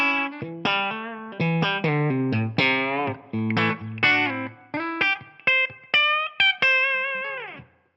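An electric guitar through Amplitube plays a run of short and sustained notes, with a compressed, effected tone and a roomy X Space room reverb tail, with no talking.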